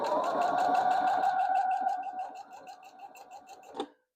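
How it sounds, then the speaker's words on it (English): A sewing machine runs close by, stitching fabric for a knitting-needle holder, giving a whirring motor hum with rapid rhythmic needle ticks that slows and fades toward the end before a final clunk. "So let's go sew that down."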